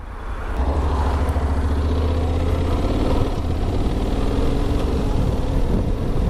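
A Honda X-ADV scooter engine rumbles steadily at idle and low revs, a continuous deep throaty hum close by, loud with no speech.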